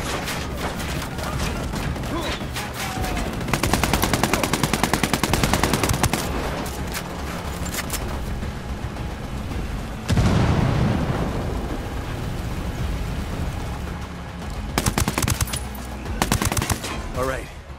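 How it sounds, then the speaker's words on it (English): Gunfire in the video game Ghost Recon Wildlands: long, rapid bursts of automatic fire interrupted by heavier booming blasts, loud and close, pausing briefly before another sustained volley, with faint voices at times. "That was some good shooting."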